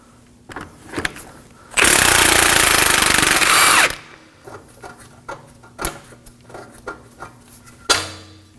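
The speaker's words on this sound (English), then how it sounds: "Moving on to the bolt closer to the back of the rotor, we're going to be removing it with a 19mm socket." A power impact tool drives a 19mm socket to remove a bolt on the rear suspension of an Acura MDX, a loud two-second burst of whirring and rattling amid clinks of metal tools.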